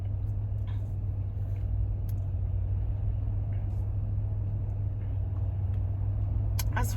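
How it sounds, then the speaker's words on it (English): Heard from inside a car on the road: a steady low engine and road rumble with a constant drone, close and even throughout, and no talk. "So right now I'm driving home."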